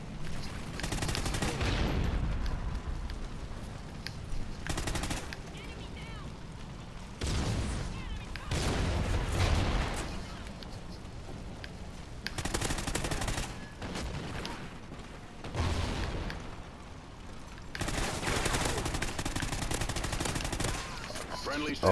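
Gunfire in a video game, bursts of loud rapid shots and booms in repeated volleys separated by brief lulls, with someone talking between them.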